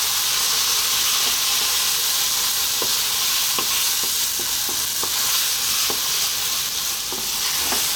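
Eggplant nashif, a dry Middle Eastern stew with cilantro, frying hard on high heat, a loud constant sizzle with the close scrape and tap of a spoon stirring through the pan.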